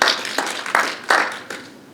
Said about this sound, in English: So please give them a round of applause for giving us a great space.